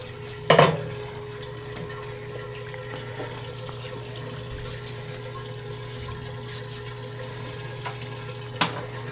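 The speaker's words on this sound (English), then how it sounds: "Washing dishes again. Washing dishes." Motorcycle fork parts from a KYB fork service get washed under a running tap, a steady stream of water with a sharp clatter near the start and another near the end.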